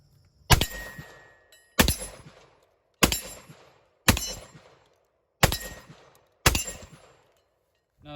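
Six loud, sharp blasts from a Panzer Arms EG200 shotgun firing buckshot at an outdoor range, evenly spaced about a second apart, each with a ringing decay, no voices.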